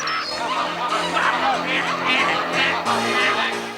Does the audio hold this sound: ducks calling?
yes